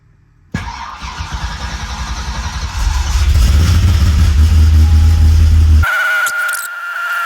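A Chevrolet Corvette Z06 engine cranks and fires up after repairs, roaring loud and close into a deep rumbling idle that swells, then cuts abruptly to quieter mechanical noise near the end.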